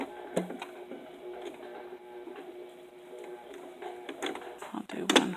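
Sewing machine stitching a zipper into a dress, a soft mechanical whir with intermittent clicks and small knocks, ending in a louder burst of clatter.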